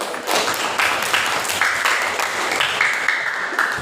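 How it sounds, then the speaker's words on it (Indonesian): A class of pupils in an Indonesian civics lesson claps together in a short, uneven burst of hand claps that lasts a few seconds, fairly close and lively, with a few brief cheers mixed in. "Tepuk tangan."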